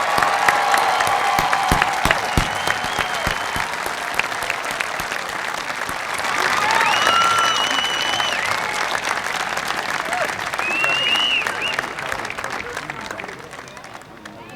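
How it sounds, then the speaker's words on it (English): A large audience at a college graduation ceremony applauds the graduating class with loud, sustained clapping, scattered cheers and whoops rising over it, and voices mixed in throughout before it fades at the end. "Join me in offering a round of applause for all graduates,"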